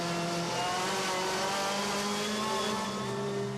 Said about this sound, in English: you can hear even the Citroën drivers not been able to really go after the throttle